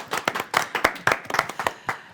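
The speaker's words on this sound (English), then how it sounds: "I want to give you a little bit of applause" A small audience at a sustainability panel claps briefly: a handful of distinct, close hand claps in an uneven rhythm, sparse and short rather than a full ovation.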